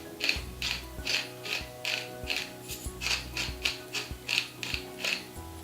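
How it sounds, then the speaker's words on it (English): Dry mustard seed ground by hand in a spice grinder, a steady ratcheting, clicking rhythm of about a dozen evenly spaced turns, close and fairly quiet, with no talking. "A little bit of dry mustard seed, just grind that up."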